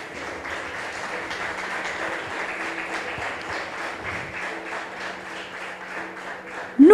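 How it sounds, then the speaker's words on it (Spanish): A church congregation claps steadily together for several seconds, a broad, even wash of applause with a faint held tone beneath it, ending with a sudden louder sound. "Den un fuerte aplauso al Señor."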